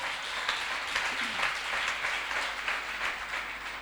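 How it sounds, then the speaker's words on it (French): A church congregation breaks into steady applause, with many hands clapping in a dense, even wash that carries on throughout at moderate volume. "Acclame Jésus."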